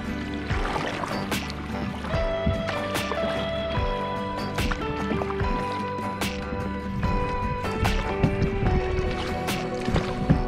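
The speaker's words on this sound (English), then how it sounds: "We can start paddling on. Paddle on left side." Canoe paddling on a lake in the Boundary Waters, with repeated paddle strokes, splashes and drips of water close by, plus faint scattered bird or voice tones in the background.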